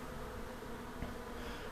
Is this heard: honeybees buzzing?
yes